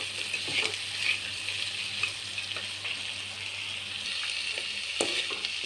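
Ivy gourd sizzles steadily in hot oil with turmeric and salt, a continuous bright frying hiss with occasional soft stirring clicks, close and fairly loud throughout, no voices.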